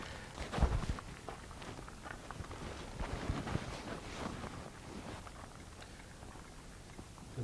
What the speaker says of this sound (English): as we walk, obviously my footstep makes a lot of noise